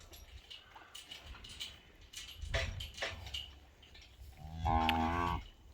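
A cow near her newborn calf gives a single close, drawn-out moo near the end, after quiet shuffling and a few soft knocks in a barn setting.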